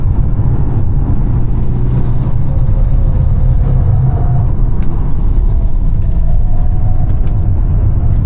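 A Polestar 1 is driven hard on a race track, its steady, loud road and drivetrain roar filling the cabin, with faint thin tire-squeal tones rising briefly in the middle and near the end.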